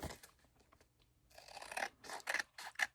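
Scissors snip around the edges of cardstock ephemera in a run of crisp, close cuts that quicken and grow louder toward the end.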